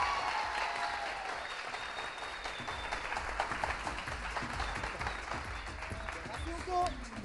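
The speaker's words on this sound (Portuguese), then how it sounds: "Para os vossos aplausos" Studio audience applause on a Sunday TV Zimbo variety show greets an arriving guest: a dense, steady wash of many hands clapping, loud and sustained throughout, with some cheering and voices mixed in.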